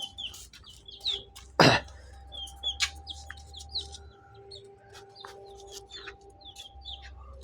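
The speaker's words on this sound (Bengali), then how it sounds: "এই যে এটা হচ্ছে আমার 4টা মুরগি বাচ্চা" Many short, high chirps from chicken chicks scattered throughout, with one sharp loud burst near the start and a low steady hum underneath.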